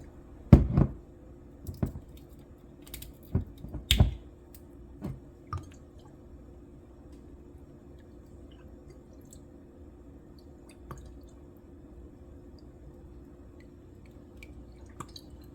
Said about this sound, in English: I'm going to do about 1 tablespoon of Worcestershire sauce